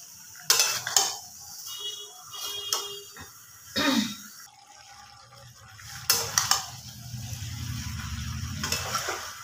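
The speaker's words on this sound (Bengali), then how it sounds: "মাংসটা কিন্তু ক্রমাগতই নাড়াচাড়া করতে হবে, নাহলে কিন্তু তলায়, মানে কড়ার তলায় লেগে যাওয়ার ভয় আছে।" Chicken with cashew paste is stirred in a kadai, the spoon knocking and scraping against the metal pan in scattered clinks and scrapes at moderate volume, with a soft sizzle underneath.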